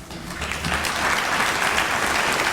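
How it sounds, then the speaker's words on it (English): A large crowd at a Hall of Fame induction ceremony applauds steadily, a loud, continuous wash of claps with no break. "you're going to get one more round of applause"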